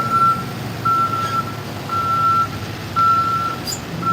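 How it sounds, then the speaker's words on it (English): A truck entering a slaughterhouse sounds loud, evenly spaced reversing beeps over a low engine rumble, about four beeps in a few seconds. "One of the trucks going in that's going to be loading."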